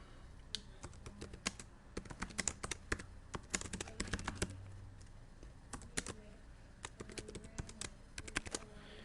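Text is typed on a computer keyboard during Illustrator work: quick, irregular clusters of crisp key clicks with short pauses between bursts, close up and clear, with no speech over them.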